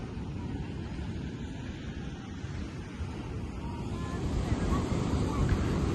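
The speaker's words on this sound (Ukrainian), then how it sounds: "море дуже дуже сильний океан" Strong Atlantic surf at a beach on Boa Vista in Cape Verde under a red-flag warning, a steady heavy roar of waves with wind buffeting the microphone, swelling louder toward the end.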